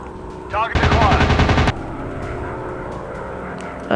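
Machine gun fire from a plane in the Warplanes video game rattles in a rapid burst of about a second over a steady aircraft engine drone.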